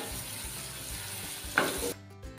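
Onion with a crushed spice paste sautéing in a pan gives a soft, steady sizzle, broken near the end by a brief louder scrape of stirring, close and without talk.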